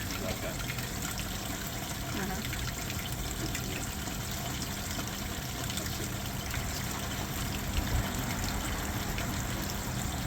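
Washing machine water draining into a drain pipe, a steady rushing, trickling gush that continues unbroken and fairly loud, with a voice speaking faintly underneath.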